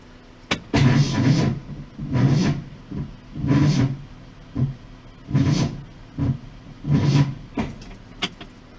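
A Ford Mustang starter cranking sluggishly without the engine catching, in about eight separate grinding bursts with short pauses between them, close and fairly loud.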